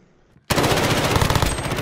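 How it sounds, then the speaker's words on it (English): Gunfire in Call of Duty Modern Warfare: after near silence, a loud, sustained burst of rapid automatic fire breaks out suddenly and continues without a break. "somebody's shooting at me"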